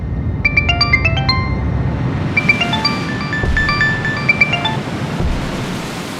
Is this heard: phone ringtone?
yes